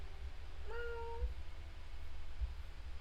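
A cat meows once in the video game Disco Elysium, a short, clear, mid-pitched call that rises and then trails off, heard faintly over low ambient game rumble with no talking.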